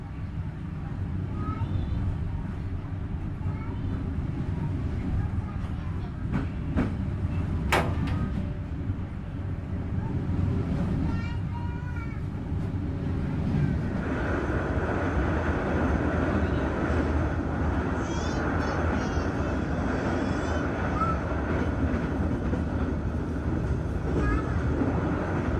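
The KA Sancaka Utara economy train runs on the rail line between northern East Java and southern Central Java with a loud, steady rumble and clatter of wheels. A horn-like tone sounds partway through, and the running noise swells in the second half.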